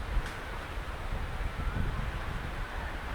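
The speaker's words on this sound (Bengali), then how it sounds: "বৃষ্টির পূর্ব মুহূর্তে যে বাতাস বয়ে যাচ্ছে" Wind sweeps through a village just before a storm, a soft steady rushing with gentle rustling and gusts, faint and even with no voices.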